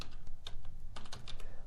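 Quick bursts of keystrokes on a computer keyboard as a word is typed into a search box, a short run of close, crisp clicks with small gaps between them.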